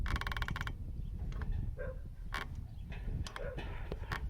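Someone pushes the counterweight of a hinged iSta Breeze Heli 2.0 wind turbine tower with a loose bolt: a short rattling buzz, then scattered metallic creaks, clicks and knocks, close and fairly quiet.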